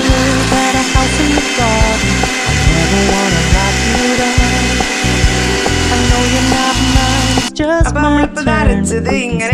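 A mixer grinder grinds banana into paste with a loud, harsh whirring and rhythmic clattering that runs continuously, then changes to choppier bursts near the end.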